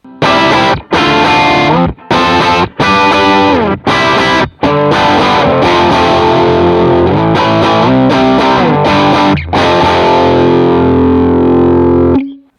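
High-gain distorted electric guitar played through an XR amp modeler with the stock cab, chugging stop-start chords and sustained notes, loud and continuous with brief pauses, ending on a ringing chord.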